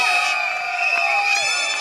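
A brief burst of crowd cheering at a live cricket match after a wicket, dense and loud, with sustained horn-like drones and shouts woven through the roar.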